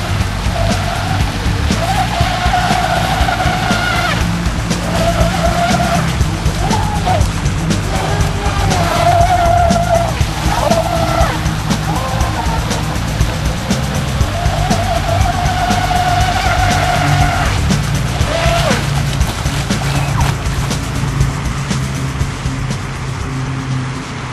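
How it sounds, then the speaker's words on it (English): RC boat with a new propeller running at speed on water, around 39 mph, a steady loud motor whine with rising and falling pitch as it passes, continuous throughout with water noise beneath. "as you saw, we got 39 miles an hour out of the boat with the new prop on it"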